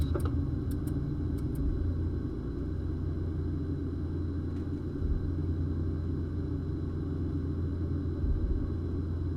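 Steady low rumble from a Boeing 777-200LR being pushed back from the gate at old Hong Kong Kai Tak in a flight simulator, a continuous deep drone with faint ticks, no voices.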